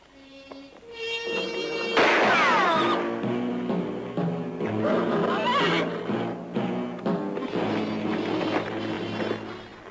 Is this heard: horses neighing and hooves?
yes